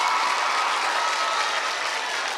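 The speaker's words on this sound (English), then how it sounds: "let's give her another big round of applause" An audience at a Newark welcome event for Miss Universe Puerto Rico bursts into steady, dense applause, many hands clapping at once in a room, loud and unbroken throughout.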